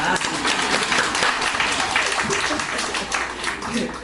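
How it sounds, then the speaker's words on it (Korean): Church congregation clapping after a prayer, a dense steady wash of hands that fills the whole stretch at moderate level. "이때 박수 쳐주는 거야"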